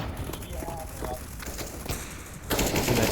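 Rapid automatic gunfire from the video game Counter-Strike: Global Offensive, loud and dense, with a sharper burst near the end, mixed with voices talking.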